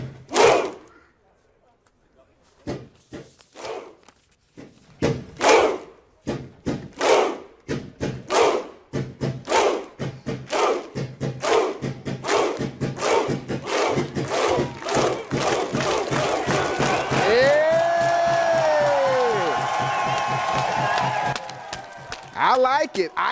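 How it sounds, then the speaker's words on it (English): Iceland football fans at the World Cup perform the Viking clap: a crowd's booming unison claps with a deep chant, spaced slowly at first and then quickening into a rapid thundering barrage, ending in a loud roar. "Iceland has quickly become a fan favorite at the World Cup, and their thundering Viking clap is partially why."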